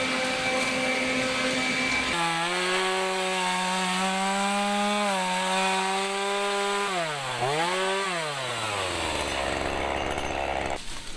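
A chainsaw cutting a big log on a wooded mountain slope while clearing a path by a cabin. The loud, buzzing engine whine starts up sharply, holds, then dips and recovers under load before settling to a low idle.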